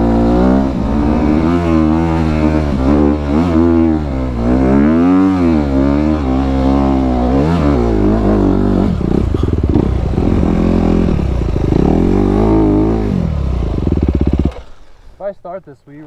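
Off-road motorcycle engine running close by, revving up and down in repeated surges with a loud, rough exhaust note, then settling into a steadier drone before cutting off abruptly, with voices talking over it.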